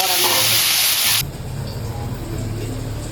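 Potatoes fry with a nigella seed tempering and turmeric, starting as a loud, close, hissing sizzle that cuts off abruptly after about a second, then settles into a much quieter, low frying murmur.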